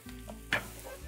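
Zucchini cubes fry in a pan with oil for ratatouille, a quiet steady sizzle broken by one brief stirring clatter near the middle.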